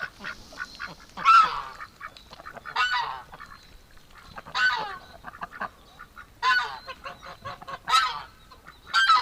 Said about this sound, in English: Okay, the goose is back at the corn, guys.